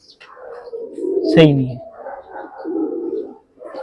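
A pair of pigeons coo in soft, throaty bursts close by, partly under someone talking.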